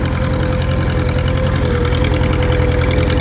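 A Farmall 350 tractor engine idles loud and close, its low, even knocking chug pulsing steadily for a few seconds with no one speaking.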